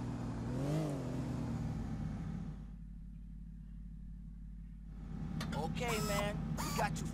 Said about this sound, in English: ich fahr gerne mit dem Auto